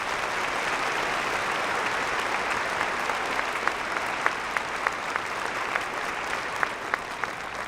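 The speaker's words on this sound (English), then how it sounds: "Let's give one final round of applause to both of our honorary degree recipients." A large commencement audience at a university spring graduation applauds its honorary degree recipients, a sustained, even wash of many hands clapping with a few sharper claps standing out, far-spread and steady throughout.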